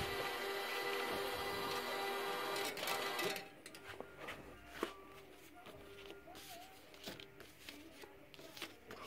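A labeling machine dispensing scratch-off labels onto lottery tickets runs with a steady mechanical whir, then gives way to intermittent clicks, taps and soft handling noises close by.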